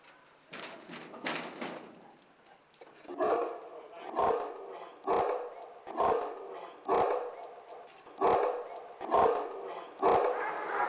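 Repeated loud barks from a large Caucasian sheepdog, the shepherd breed of Georgia, in an urban yard, coming in a steady series of heavy, closely spaced woofs after some earlier mixed noise.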